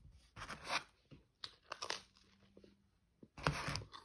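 Someone bites into a crunchy bagel, giving several crisp crunches and tearing sounds between short pauses, close and alone, with the loudest bite near the end.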